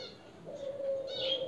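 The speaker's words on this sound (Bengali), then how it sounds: "পাখিটি কিন্তু আসলে খুব সুন্দর কথা বলে" A pet parrot gives a few short chirps and a sustained whistled call up close, fairly faint against a quiet room.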